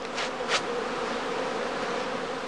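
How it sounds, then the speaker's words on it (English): A honeybee swarm hums in a dense, continuous buzz as bees emerge from straw skeps at a skep beekeeping bee farm, steady and fairly near, with no voices. "the second swarms, or casts, to emerge from the skeps"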